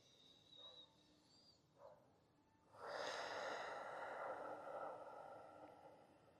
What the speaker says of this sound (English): 1 more deep breath